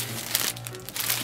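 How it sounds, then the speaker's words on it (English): Close, crisp crinkling of plastic wrapping as a MacBook is unwrapped, with irregular crackling bursts and no speech. "I've peeled the plastic. The plastic has been"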